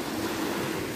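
Sea waves washing onto a beach at Berdyansk, a steady close surf wash mixed with some wind rumble, filling the whole moment without any voices.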